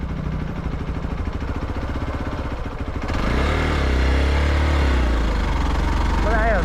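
A motorcycle rides a newly constructed road from Khechuperi to Lamathang, its engine chugging steadily under voices, then swelling into a louder, deeper close-up rumble about halfway through.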